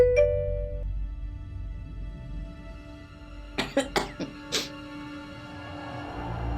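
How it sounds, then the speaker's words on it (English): Someone with a head cold gives a quick burst of four or five sharp, close coughs in a row after a quiet stretch, with a faint chime sounding at the start. "I'm trying to catch my breath, but I keep coughing."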